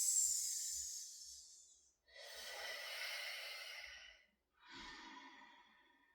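Slow yoga breaths, each a long, soft, close airy exhale, come three times in succession with brief silent gaps between them.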